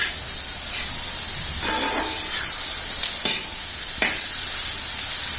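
Onions sauté for Kerala-style pork vindaloo in a pan over a wood-fired stove. A steady, close sizzling hiss runs throughout, broken by a couple of sharp scrapes and clicks from stirring.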